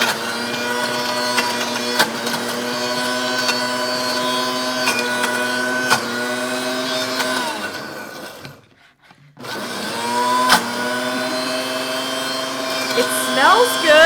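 A Ninja Foodi Hot/Cold Blender runs loudly with a steady motor whine that cuts out briefly near the end and then starts again, close and continuous, with a voice faintly audible beneath.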